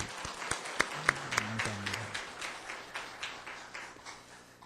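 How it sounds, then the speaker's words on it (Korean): A church congregation in Korea gives scattered, fairly light applause. Individual claps stand out at first before settling into a softer, thinning patter, and a voice briefly sounds near the start. "한번 박수로 한번 격려해 주세요"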